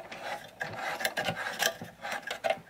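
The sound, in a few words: tightening a clamp on a Hoover upright vacuum cleaner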